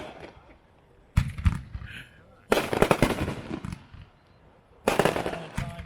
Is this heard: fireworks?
yes